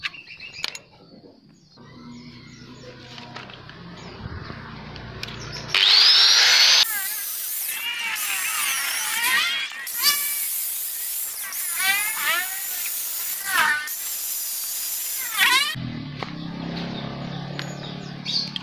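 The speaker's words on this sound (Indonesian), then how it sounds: "Tinggal memotong bagian ujung ini yang lancip, kita rapikan, dibikin bulat nanti seperti ini, digerinda ke sini dan yang ini ke sini." An angle grinder rounding off the pointed tip of a Honda automatic scooter's kickstand part, screeching loudly in a long continuous stretch with pitch sweeps as it bites the metal, bracketed by quieter handling noises.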